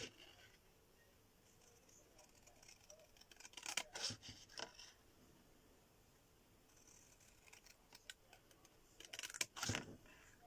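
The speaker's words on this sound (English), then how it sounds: "I'm going to take a pair of scissors." Small craft scissors snip paper at a stamping table, giving a few faint, quick clicks and crisp cuts in two short bursts amid quiet room hiss.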